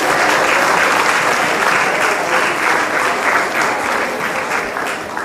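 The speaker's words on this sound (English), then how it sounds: "A huge round of applause for all the teams that presented today." A school audience at a social innovation lab session applauds the presenting teams, with sustained, even clapping from a sizable crowd that fades only slightly toward the end.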